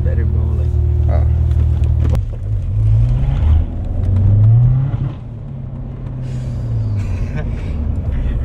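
Corvette C7 Z06 V8 revving hard from inside the cabin, deep exhaust rumble rising and falling through several throttle blips, with a sharp pop near the start; voices are present but unclear.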